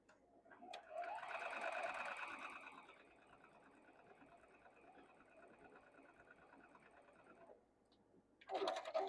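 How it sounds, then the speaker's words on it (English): A sewing machine stitches quilt block pieces together, a steady mechanical whir running continuously at close range for several seconds before stopping, then briefly starting again at the end. "Now we'll sew this one on this side."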